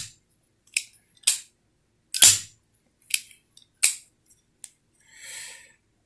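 A QSP Platypus folding knife is flicked open and closed repeatedly, giving sharp metallic snaps and clicks spaced irregularly at close range, with a brief softer rustle at the end.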